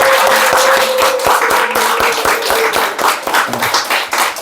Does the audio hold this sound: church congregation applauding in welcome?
yes